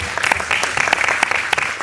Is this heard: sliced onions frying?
no